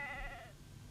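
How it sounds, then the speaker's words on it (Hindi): Sheep bleat as they are driven down a hillside, a single wavering, nasal call that fades out partway through, with low rumble underneath. "ये हमारी भेड़ें पहाड़ी के नीचे हाँक रहा था"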